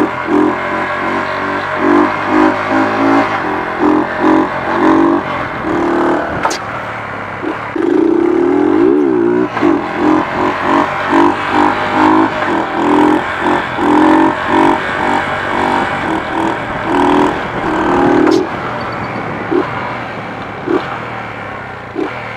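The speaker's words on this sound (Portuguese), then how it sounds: "Agora é o Renanzinho na moto dele, meu filho." A motorcycle doing wheelies runs steadily and revs up in repeated bursts, with a stronger rev partway through. It is close and fairly loud.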